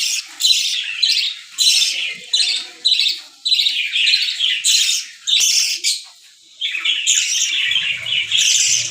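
Baby birds being hand fed with a spoon chirp in rapid, high-pitched bursts, loud and close, with repeated squawky calls and a brief low rustle near the end.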